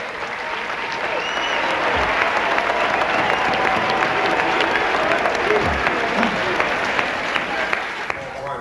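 A large audience at the 2001 State of the Black Union claps steadily and warmly for several seconds, a broad sustained roar of applause with crowd murmur beneath.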